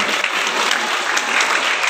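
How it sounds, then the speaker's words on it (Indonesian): Students applauding their classmates at SMPN 13 Pekanbaru, a lively burst of many hands clapping fast and evenly from start to end with no talking. "Tepuk tangan buat teman-teman."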